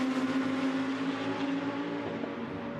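GT2 race cars roar past at Imola circuit, a strong, sustained engine note sweeping by and fading slightly toward the end, loud and fairly close with no voices.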